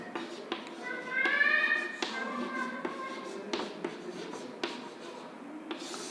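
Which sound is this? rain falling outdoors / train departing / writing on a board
writing on a board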